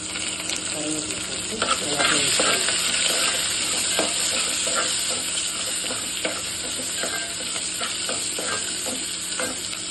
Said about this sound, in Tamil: எல்லாத்தையும் நல்லா வதங்கிட்டோம்.